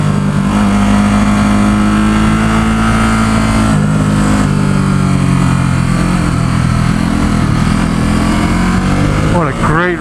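A 2017 Ducati Supersport S motorcycle rides a winding road near San Francisco, its engine droning loud and steady with pitch shifts as it climbs and eases, under heavy wind rush, and ends in a quick rev.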